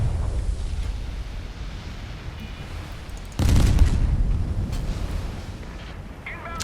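In the naval game Steel Ocean, a British battleship's secondary guns fire at a submarine: a steady rumbling battle bed broken by one heavy booming blast partway through, followed by a rolling, lower-pitched aftermath.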